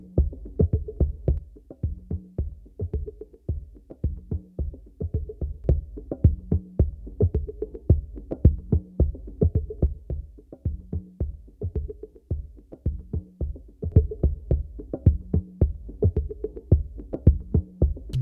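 Drum loop played back with its compressor bypassed, a fast, busy pattern of boomy low hits and dull mid-range thuds repeating steadily, fairly quiet and muffled with little high-end sparkle.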